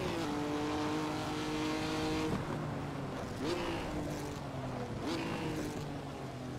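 Engine of a Honda race car lapping Laguna Seca in the Assetto Corsa racing game, a steady droning tone with repeated upshift steps as it accelerates, heard fairly quietly under faint background sounds.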